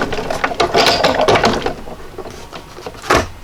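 A hand-cranked die-cutting machine feeds heavy cardstock through its rollers, giving a close, steady run of ratcheting gear clicks over about two seconds, then a brief pause before a sharper mechanical clack near the end.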